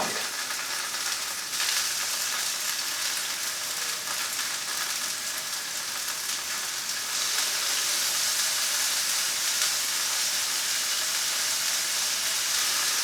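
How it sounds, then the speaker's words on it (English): Roast beef searing in a hot pan gives a steady, loud broadband sizzle and crackle that runs the whole time with no voices. "now I'm going to turn this over and start searing the other side"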